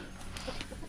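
A brief, soft cluck from a chicken in a chicken run against quiet background noise, single short call, fairly faint.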